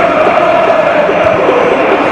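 Crowd of just over 20,000 at a Portsmouth v Leicester City Championship match, loud, steady stadium murmur and chant washing across the ground, with faint speech mixed into the broad noise.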